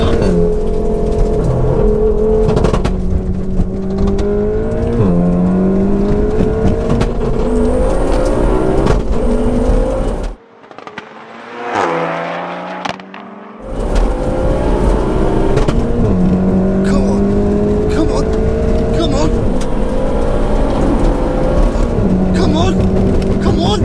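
Two 530hp cars, an all-wheel-drive-swapped manual Ford Focus ST and a DSG Volkswagen Golf R, roar loudly through repeated hard acceleration runs with rising engine pitch and gear changes, a short quieter pause midway, voices heard over the racing engines.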